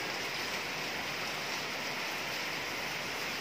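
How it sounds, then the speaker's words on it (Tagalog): Heavy rain falls steadily on a rainy morning, a dense, even hiss of water that holds at the same loudness throughout with no voices. "Maulan na naman na umaga mga kasukat."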